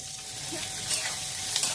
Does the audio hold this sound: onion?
yes